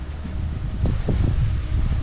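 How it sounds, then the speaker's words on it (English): Wind gusting across the microphone on a forest trail to Overall Run Falls in Shenandoah National Park, a steady low roar with a few stronger buffets, no voices. "hope you guys can really hear this because I know it's really windy"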